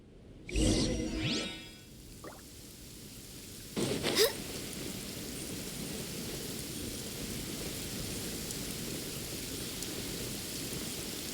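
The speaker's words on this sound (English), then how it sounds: "I love listening to the rain from the courtyard" Steady rain falls over a courtyard in Genshin Impact, a continuous soft hiss running throughout after a couple of brief louder bursts near the start.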